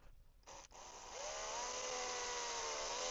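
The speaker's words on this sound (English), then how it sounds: "I've got a 1mm drill ready for the first" A 1mm drill bores a hole into a 3D printed fishing lure. After a couple of faint clicks and handling noises, a thin, high whine starts up and holds steady and close, growing slightly louder.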